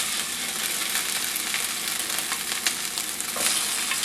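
Rice hits a hot pan with sesame oil and fries in a loud, continuous sizzle, with faint scraping and stirring ticks heard close by.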